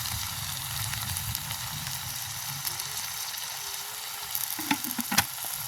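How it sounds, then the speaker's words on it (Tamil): Food sizzles and fries in a pot in a village kitchen, a continuous hiss with scattered bubbling, then a few louder scrapes and clatters of stirring toward the end. "இருக்கா கிண்டி விடுவோம்"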